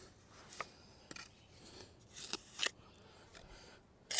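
Excess mortar scraped from stonework joints with a hand tool against a plywood form, a series of short, sharp, gritty scrapes spaced irregularly, fairly quiet and close.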